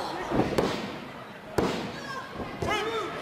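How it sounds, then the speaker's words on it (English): A wrestler slams an opponent onto the ring mat in a women's WWE match, giving one sharp, loud thud amid crowd noise and ring ambience. An announcer's commentary runs underneath. "And taking over with that power slam."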